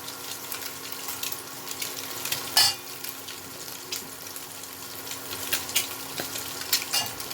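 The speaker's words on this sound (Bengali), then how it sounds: "ডিমগুলো এখন কড়াটা গরম হয়ে গেছে, ডিমগুলো ভেজে নিচ্ছি।" Eggs frying in hot mustard oil in a kadai, a steady crackling sizzle with sharper spitting pops and an occasional scrape of stirring, heard close with no talking.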